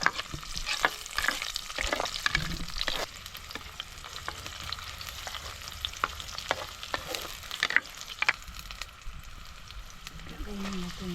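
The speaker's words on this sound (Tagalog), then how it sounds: "papula-pulahin muna natin ang bawang para mabango-bango sunod mo na yung sibuyas" Garlic and onion sautéing in a pan for ginataang talbos ng langka, with a steady sizzle under repeated sharp scraping and stirring clicks, close and moderately loud.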